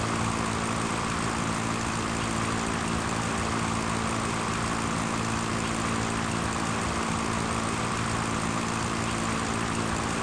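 A Cessna light aircraft in flight in the Pro Pilot simulator, with an unbroken propeller-engine drone, loud and even, holding a steady pitch from start to finish and no other sounds.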